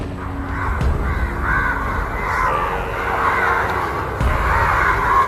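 A crow caws several times, harsh repeated calls over a dense noisy background, fairly close and loud.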